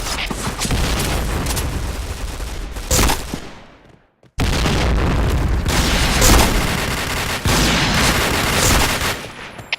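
Grenade blasts and gunfire in the shooter game Point Blank, loud dense bursts of booming explosions and rapid shots with a brief silent gap in the middle.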